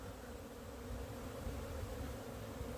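Honeybees fly around the hive during a spring cleansing flight, giving a steady, soft, continuous buzzing drone with no voices.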